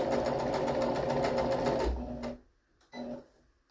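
A sewing machine stitches brush fringe, a fast steady mechanical whir with rapid needle clatter for about two seconds, then stops, followed by a brief second burst of stitching.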